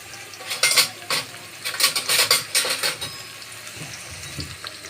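Curry leaves and onion sautéing in a pan, with a steady sizzle and bursts of scraping and clinking as the mixture is stirred, the stirring strokes clustered in the first three seconds before easing off.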